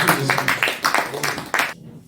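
Audience applause at a Korean community lecture concert as an invited guest speaker is welcomed, dense mixed clapping with a voice or two over it, stopping abruptly near the end.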